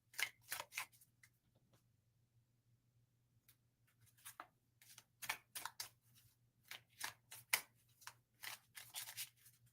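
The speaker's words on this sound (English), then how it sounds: "I'm sitting here shuffling" A deck of cards is shuffled in quiet bursts of crisp riffling and flicking, a few quick ones early and then a longer patter of shuffles, close but faint over a low steady hum.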